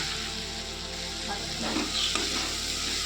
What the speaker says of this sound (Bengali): এই সময় আমি বাটারটা দিয়ে দেবো এর মধ্যে